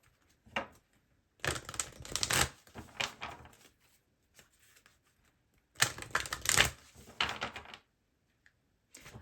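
Oracle cards used for a tarot reading are handled and shuffled up close, in two dense bursts of rapid papery riffling and slapping with short pauses and quiet gaps between them.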